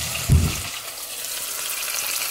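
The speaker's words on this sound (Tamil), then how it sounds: "பெருஞ்சீரகம், வெந்தயம் போட்டுக்கோங்க. அது கொஞ்சம் பொரியட்டும்." Whole spices such as cardamom, cinnamon, cloves, fennel and fenugreek fry in hot oil for a beef curry, giving a soft, steady sizzle and crackle after a brief low thud near the start.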